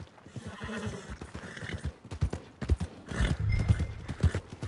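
Horse hooves in Red Dead Redemption 2, a steady clip-clop of a horse walking toward the stables, close and rhythmic with a brief neigh partway through.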